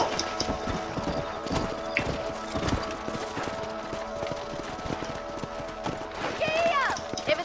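Horse hooves clip-clop at a gallop in the Western video game Red Dead Redemption, a steady close rhythm running throughout, with a whinny near the end, under background music and occasional talk.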